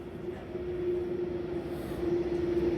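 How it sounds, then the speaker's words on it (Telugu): A red regional train pulling into a station in Germany, a steady loud rumble of rolling wagons with a sustained wheel whine, no voices. "మేము ఎక్కాల్సిన ఎర్రబండి అయితే వచ్చేసింది."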